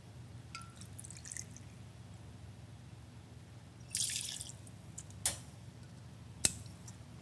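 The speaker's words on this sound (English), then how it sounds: "Add 2 ounces of Lola Belle Cherry Rum." Cherry rum is poured into a cocktail shaker in quiet bursts, with a few faint drips and short sharp clinks of glass and metal close by.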